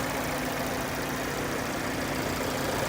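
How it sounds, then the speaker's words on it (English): Engine of a 2017 Fiat 500 Lounge Premium with MultiAir engine idling, a steady low hum and rumble held evenly throughout without revving, heard up close with no talking. "Multi-air engine."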